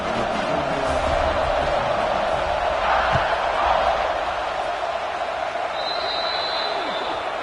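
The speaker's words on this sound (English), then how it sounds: "They're set to kick it off, and this crowd now ready to get behind them." A college football stadium crowd roars before the kickoff in a tied game in the second quarter. It is a broad, sustained wash of crowd noise that swells a little midway and carries steadily throughout.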